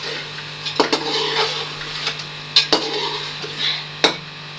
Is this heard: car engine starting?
no